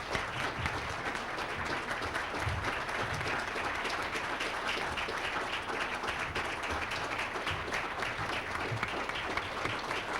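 Conference audience of legislators applauding a speaker's introduction, dense sustained clapping from a sizable crowd that holds evenly for about ten seconds.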